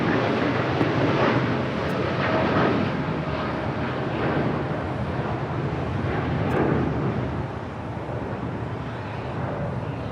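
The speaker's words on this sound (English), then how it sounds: "That is Air Tahiti Nui Flight 7 departing to Papeete on a 787-9 Dreamliner." An Air Tahiti Nui Boeing 787-9 Dreamliner departs Los Angeles International Airport, a loud, steady broadband jet roar that holds for the whole stretch and eases slightly near the end, with some wind buffeting the microphone.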